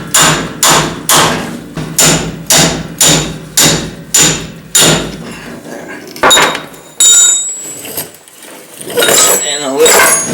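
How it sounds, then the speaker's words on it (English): A hammer strikes a brass punch to drive the pinion out of a Dodge RAM 1500 rear differential. About ten loud, evenly spaced metallic blows ring close by, then a few scattered knocks and clatter follow. "to drive the pinion out of here, put your nut back on. Use the brass punch."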